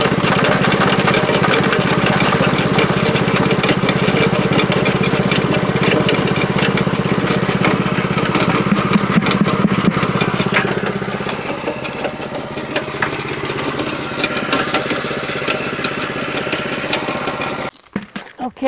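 A rock crusher grinding an ore sample finer, a loud steady mechanical drone with rattling and crunching that eases into a lighter running tone before stopping.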